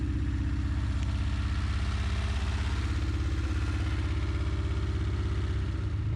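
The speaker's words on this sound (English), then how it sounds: "And now the engine started and is holding" An abandoned car's engine runs steadily after an ether quick start, a loud close idle with a rough, even clatter holding constant RPM and no speech.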